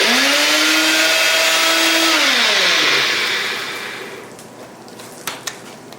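A bullet blender grinds dehydrated onion into powder, its loud high motor whine running steady, then winding down and fading, leaving faint rattling of the contents at the end.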